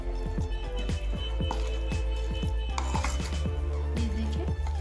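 Chicken kofta mince being mixed by hand in a bowl: a steady run of soft wet squelches and light clinks against the dish, close and continuous.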